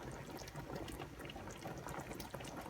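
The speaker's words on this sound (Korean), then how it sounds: "오늘은 제가 소꼬리를 이렇게 푹 끓이고 있습니다" Oxtail soup simmers in a pot, giving a quiet, continuous bubbling with soft pops, close by and faint, with no speech.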